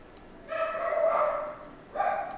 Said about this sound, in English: You can hear my dogs from the other room.